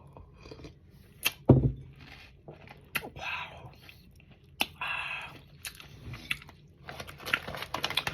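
Crunchy chicharon pork rinds being bitten and chewed close up, with a sharp loud crunch early on followed by scattered crisp bites and chewing noises in an otherwise quiet setting.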